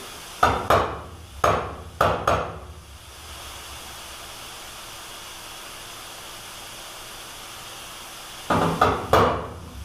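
Hammer taps on a high spot of a car body panel being metal-finished with filler, three pairs of sharp close strikes in quick succession, then a quiet pause, then two more taps near the end.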